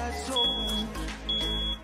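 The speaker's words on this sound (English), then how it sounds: "Why is the smoke alarm going off?" Two short high-pitched electronic beeps, about a second apart, over low rumbling background noise.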